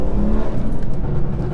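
A stage 2 BMW B58 engine revs loudly up close, a dense rough exhaust roar with choppy crackling texture that fits its exhaust pops, with no talk over it.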